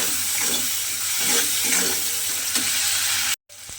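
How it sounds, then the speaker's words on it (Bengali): A spice mixture with sour yogurt being stirred and sautéed in a pan for a radish dish, with a steady sizzle and scraping stir strokes throughout, cutting out abruptly near the end. "এবারে টক দইটাও কিন্তু এই মশলার সঙ্গে খুব ভালোভাবে মিশিয়ে একটু কষিয়ে নিতে হবে"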